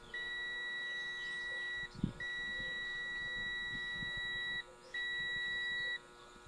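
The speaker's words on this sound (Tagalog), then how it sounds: "Test natin sa buzzer. May buzzer siya, ibig sabihin may continuity." A continuity tester's continuous high electronic buzzer tone sounds while a motorcycle electric starter motor is turned, cutting out briefly twice before resuming, with a soft clack of handling near the start.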